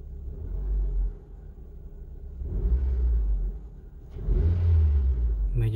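A 2010 Honda Civic with an R18 engine and a K&N intake revs up from idle in two distinct surges, its deep, rumbling tone swelling and settling between pushes, heard close and without talk.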